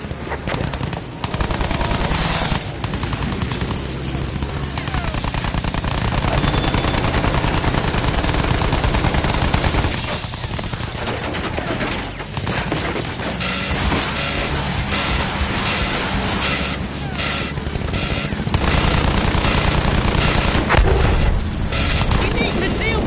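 Dense, continuous gunfire and booming blasts from a video game battle against blimps, loud and sustained throughout with shouted voices mixed in under the barrage.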